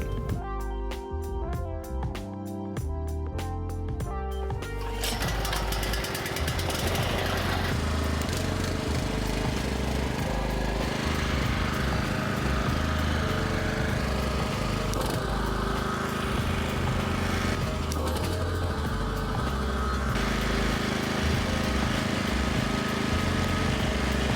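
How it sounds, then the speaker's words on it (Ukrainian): An AL-KO 3500 C framed generator runs under a deliberate short-circuit test: a loud, steady engine drone with a rapid pulsing rattle at first, shifting to a rougher continuous roar that holds for the rest of the stretch. "Влаштуємо генератор коротке замикання і подивимося, що буде."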